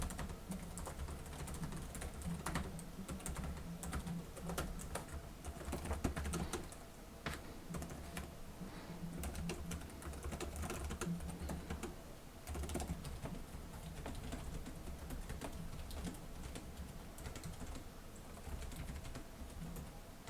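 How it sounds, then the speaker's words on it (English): Steady fast typing on Lenovo Legion laptop keyboards, a dense run of close, soft plastic key clicks and taps continuing without pause, alone with no talking. "So I'll do a typing test from left to right."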